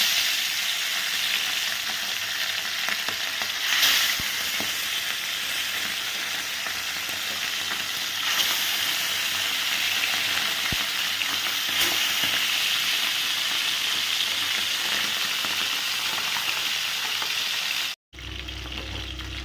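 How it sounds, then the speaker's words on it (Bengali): Small baby bhetki fish fry in hot oil, giving a loud, dense and continuous sizzle close up, steady throughout with a brief cut near the end. "তো এবার মাছগুলো আমি আগে ভেজে নিই এক এক করে।"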